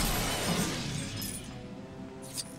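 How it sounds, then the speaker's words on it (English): Glass shattering from a sonar disruptor in Lego Batman 3: Beyond Gotham, a loud dense burst of breaking glass with tinkling shards that fades over a couple of seconds. "This sonar disruptor will destroy that glass"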